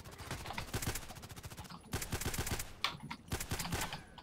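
Rapid pistol shots from a GSH-18 sidearm in the shooter game Contact Wars, fired in quick bursts of sharp cracks with brief pauses between strings, loud and close, mixed with other gunfire.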